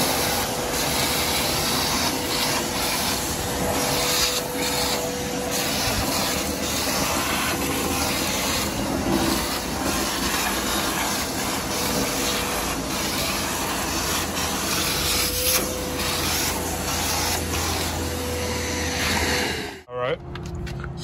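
A Hart 8-gallon, 6HP stainless steel wet/dry vacuum runs with a loud, steady roar throughout, cutting off abruptly near the end, with a person talking over it.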